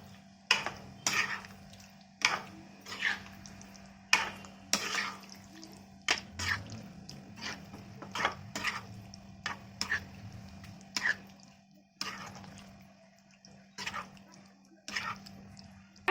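Schezwan masala potatoes tossed with coriander leaves in a pan, heard as a regular series of sharp spoon scrapes and taps against metal, close up, with a low hum underneath.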